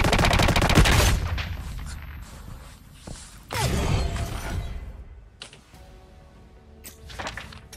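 Gunfire in the Lost Light video game, a fast rattling automatic volley up front, then another loud burst of shots with clattering and shattering, trailing into sparse scattered reports.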